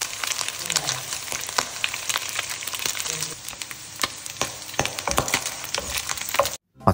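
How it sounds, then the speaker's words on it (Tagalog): Pork belly fries in oil in a pan, a steady dense sizzle with crackling pops and spatters throughout, close and continuous, cutting out briefly near the end. "naglagay ng mantika sa kawali at tinusta ko muna yung pork belly hanggang sa mag golden brown"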